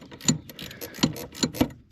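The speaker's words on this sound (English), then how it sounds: "it's a matter of hoping I've got the wrenches set to the right direction" Ratchet wrenches click in short, irregular bursts while tightening steering intermediate shaft bolts on an Audi, close-up and fairly quiet, with about four sharper ratchet snaps among softer ticking.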